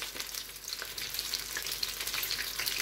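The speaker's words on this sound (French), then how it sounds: "Donc je trempe mes gambas et je les verse dans l'huile très chaude," Battered prawns fry in very hot oil, giving a dense, even crackle and sizzle with fine popping throughout.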